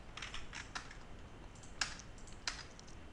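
Code is being typed on a computer keyboard during a programming lesson on character strings. Quiet, close key taps come in an uneven run, with a few sharper clicks standing out and no talking.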